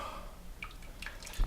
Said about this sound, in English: pour it over the grains